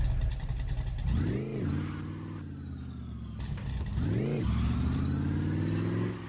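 Chevrolet Opala, a damaged car, pulls away with its engine revving hard twice, each rev rising and falling in pitch over a steady idle rumble, close and loud with no talking.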